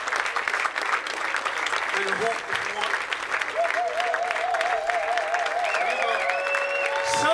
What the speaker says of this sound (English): Can you give that applause?